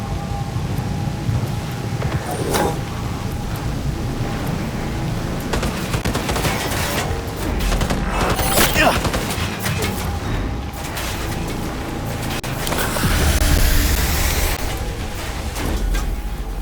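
Heavy gunfire in Cyberpunk 2077, dense bursts of automatic weapons fire with sharp cracks and rumbling booms, loud and nearly continuous throughout, swelling in intensity near the middle and again toward the end.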